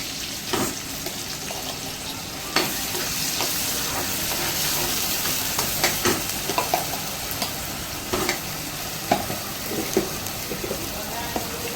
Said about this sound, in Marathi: टोमॅटो झाल्यानंतर मसाला आपण फ्राय करायला घेऊ